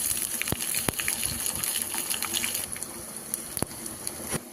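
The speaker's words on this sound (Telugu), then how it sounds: "పోపులో జీరా, ఆవాలు, శనగపప్పు అన్నీ కలిపి వేసుకోండి." Cumin, mustard seeds, chana dal, curry leaves and dried red chillies hiss and sizzle in hot oil for a cabbage dal tempering, a continuous crackling with a few sharp pops and no talk.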